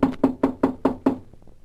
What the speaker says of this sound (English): when the knock came at the door